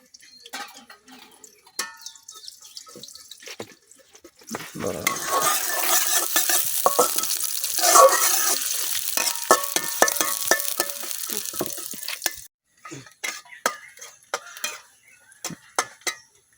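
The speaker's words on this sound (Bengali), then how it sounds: "পেঁয়াজটা হালকা ভাজা হয়ে গেছে" Chopped onion hits hot oil in a wok (kadai) for a puti fish and pui shak curry, and a loud, dense sizzle runs for several seconds. Scraping and clinking spoon strokes come before and after the frying.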